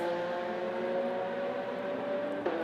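Steady droning modelled race car engine tone at a constant pitch, buzzing evenly, with a small click near the end.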